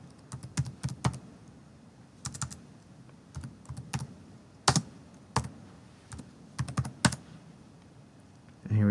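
Clicks of a computer keyboard come in short bursts as a command is typed, close and clear over a quiet background, with a brief louder thump at the very end.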